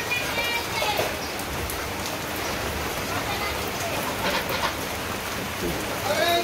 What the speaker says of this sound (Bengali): তো এই যে এখন হইলো বৃষ্টি নামছে, অনেক সুন্দর বৃষ্টি হইতেছে